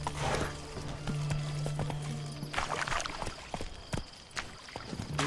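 A horse gallops in The Witcher 3, its hooves clip-clopping in a quick rhythm over a steady game ambience, with a brief low whinny-like tone early on and no speech.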